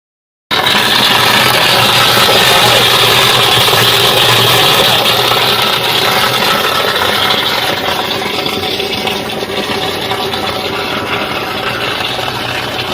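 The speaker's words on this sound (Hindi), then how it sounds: "शुरू में आप इसका रिएक्शंस और इसकी आवाज़ें सुन सकते हैं कि ये निहायत" A violent chemical reaction as phosphoric acid is released bit by bit into potassium hydroxide in a drum to make liquid potash on a farm, giving a loud, continuous roaring hiss and rumble that churns steadily throughout.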